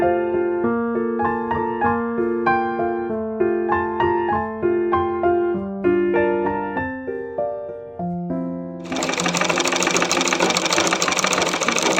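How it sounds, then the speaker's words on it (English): A sewing machine stitches printed satin fabric for a knotted turban headband, running in a steady, close whir over the last few seconds after a stretch of background music. "stitch it down on your sewing machine"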